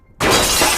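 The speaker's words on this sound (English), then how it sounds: "manages to break the glass of a small bathroom window" A small bathroom window's glass shatters suddenly after a brief quiet moment, a loud, close, sustained crash of breaking glass with no talking over it.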